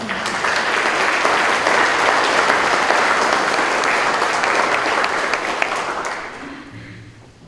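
A crowd at an inauguration ceremony applauds heartily for several seconds, a thick sustained clatter of many hands that tapers off near the end, leaving a hushed room.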